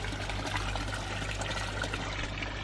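Water from a fish pond's return outlet pours back into the pond, making a soft, continuous trickling splash that stays even and fairly quiet throughout.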